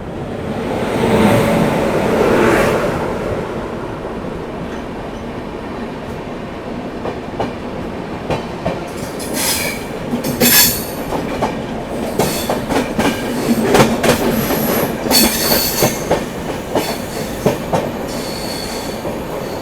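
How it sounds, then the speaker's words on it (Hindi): The Lucknow New Delhi Tejas Express passes close by on the adjacent track, heard from a moving train as a loud rumble with rhythmic wheel clatter and squealing. "सामने से आती हुई अपनी लखनऊ नई दिल्ली"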